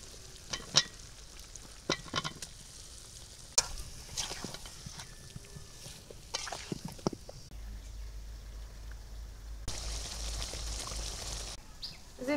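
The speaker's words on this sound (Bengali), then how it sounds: "মিষ্টি কুমড়া দিয়ে দিলাম।" Pumpkin pieces sizzle gently in a pan with spices, a quiet close frying hiss broken by clinking spatula stirs and scrapes, with a low steady hum joining in the latter half.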